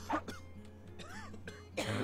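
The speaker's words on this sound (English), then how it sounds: "I'm tired of this coughing coughing sound file playing constantly" Coughing sound effect from the video game Dwarf Fortress: a few short, harsh coughs and throat-clearing bursts at moderate volume over a low steady game hum, with no talking.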